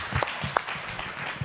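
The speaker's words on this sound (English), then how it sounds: "Let's clap her up." An audience at an artist talk applauds, a steady patter of many hands clapping with a few sharper individual claps standing out.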